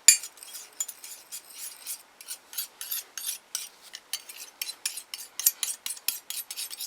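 A spoon or tool mixing glitter into acrylic nail powder in a small container produces a quick series of dry, gritty scraping strokes in uneven rhythm, close and crisp, with no voices.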